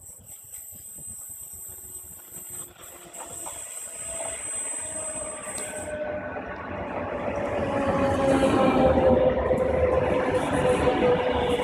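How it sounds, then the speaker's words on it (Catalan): The last train of the day, the 125 (refurbished), pulls into La Tor de Querol-Enveig station with a steady rumbling roll and hissing that grow louder and closer over several seconds, no voices. "Arribada de l'últim tren que puja fins a la Tor aquest dissabte."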